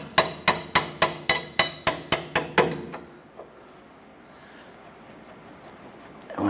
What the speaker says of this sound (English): Now we're going to go ahead and tap the end of this bolt here.